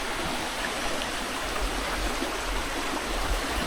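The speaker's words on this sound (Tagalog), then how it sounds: "Ito na patunay na sa gubat talaga itong ganitong klaseng ilog eh." A forest river rushes steadily, a broad continuous wash of flowing water that stays close and even throughout, with no voices.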